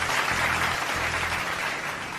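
Applause for the affirmative team at a school debate, a short burst of steady group clapping that stays loud and even before easing off slightly at the end.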